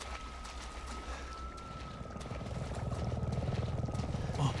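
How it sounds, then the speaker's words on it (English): A helicopter in the Resident Evil 7 finale approaches with a low rotor thrum that grows steadily louder and denser, set against a dark ambient drone and a thin sustained tone, with no speech. "It's a helicopter."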